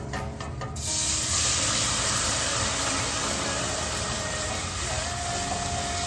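Beef broth poured into a hot skillet while cooking Salisbury steak sets off a loud, steady sizzle and hiss. It starts abruptly and continues evenly close up.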